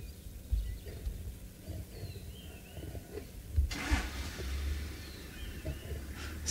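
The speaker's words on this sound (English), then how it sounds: "So don't get surprised when hearing the engine and some other people talking." A safari vehicle's engine idles and revs at a wildlife sighting, a low rumbling hum beneath outdoor ambience with faint birdsong, swelling briefly midway and continuing moderately loud.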